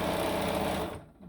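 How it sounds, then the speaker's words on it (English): A sewing machine stitches fabric strips for a rail fence quilt block, running in a fast, steady whir close by, then stopping abruptly near the end. "I'm just going to sew."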